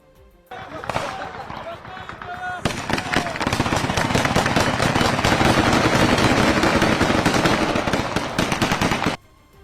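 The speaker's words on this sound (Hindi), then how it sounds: "ताबड़तोड़ फायरिंग की भी आवाज सुनाई दी" Sustained bursts of rapid automatic gunfire crackle for several seconds in a news clip of the Iran–Israel conflict, with voices faintly audible underneath.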